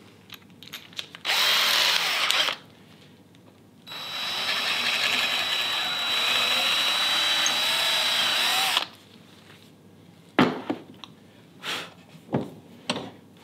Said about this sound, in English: Just drill that middle out.